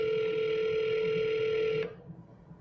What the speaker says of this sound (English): when we're done, Tyler, let's call your realtor in Alabama